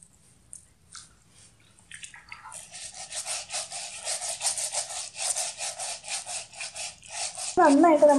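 An old toothbrush scrubs shampoo-lathered feet in quick, rhythmic back-and-forth strokes that start faint and grow steady and close. A voice cuts in at the very end.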